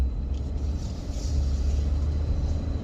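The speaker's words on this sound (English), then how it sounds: "I'm leaving now. I'm driving." A car driving, a steady low engine and road rumble heard from inside the vehicle, continuous and moderately loud with no break.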